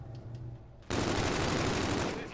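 Automatic gunfire in Call of Duty: Infinite Warfare during a 4v4 match, a sudden loud sustained burst of rapid shots cutting in after a quieter opening.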